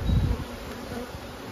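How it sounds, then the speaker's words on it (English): Bees buzzing around a big hive, a continuous close drone with a louder low rumble at the start, then a steady hum with no voices. "So we're going to see if I manage to avoid really ticking these bees off or not."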